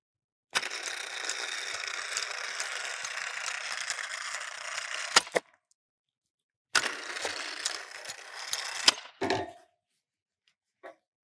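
Chain motor hoisting rig lowering onto a truss, a steady ratcheting mechanical whir running for several seconds, stopping with a couple of clanks, then starting again briefly before a final clunk.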